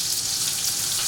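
Steady close sizzling of Brussels sprouts searing in a hot pan, a dense crackling hiss with no pauses and no voices.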